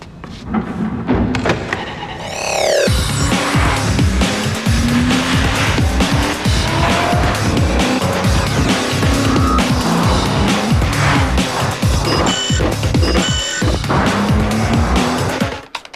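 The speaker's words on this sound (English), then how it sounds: "V6 Nissan Altima" A V6 Nissan Altima powers through hard maneuvers for a TV ad, tires squealing and skidding again and again over a loud, close engine roar that holds nearly the whole time.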